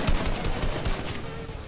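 Gunfire in the Fortnite video game: a short, dense burst of rapid shots with a couple of sharper cracks, loud and close, fading slightly toward the end.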